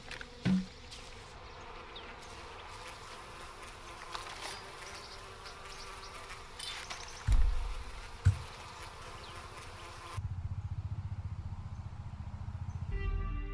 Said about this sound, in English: Bees? Oh, there's the beehive.